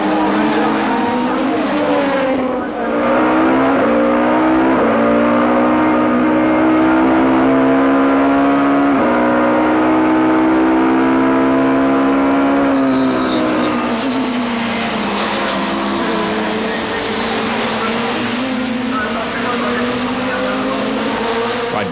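BTCC touring cars racing at Brands Hatch in 1998, a Nissan and a Volvo, with loud, close engines revving and shifting through gears, pitch climbing and falling, under continuous commentary.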